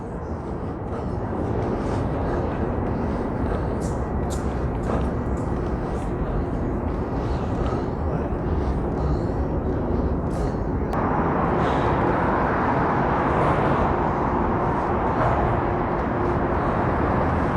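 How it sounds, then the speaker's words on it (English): A subway train rumbles somewhere deep below Grand Central Terminal in New York, heard from a bridge over a pedestrian corridor as a loud, continuous low roar of traffic-like noise that swells slightly partway through. "I don't know if you can hear it, but somewhere deep below us, I hear a train."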